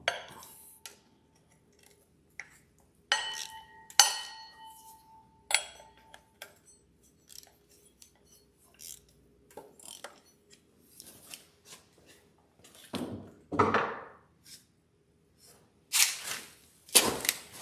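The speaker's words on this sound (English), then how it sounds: "I always like to break bolts loose by hand first" Wrenches and sockets click and ratchet as bolts are broken loose by hand on an LS2 engine during a teardown, with sparse sharp metallic ticks and clinks scattered between quiet gaps, close and without speech.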